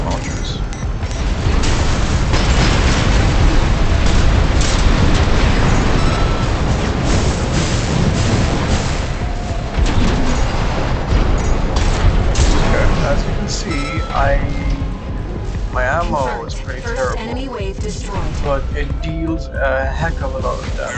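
Missile launches and explosions in the mech combat game Armored Core VI, a loud continuous barrage of booming blasts and mechanical clatter that never lets up, with voices talking over the din.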